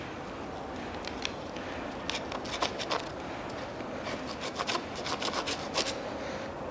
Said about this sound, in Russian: Вытираю отвертку.